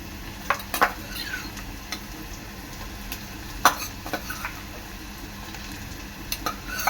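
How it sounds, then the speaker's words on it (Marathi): Sharp metal clinks and a soft scrape of a spoon in a pan as masala paste is added, a few scattered knocks over a quiet kitchen hum. "आता मी ह्याच्यामध्ये आपलं वाटण टाकणार आहे"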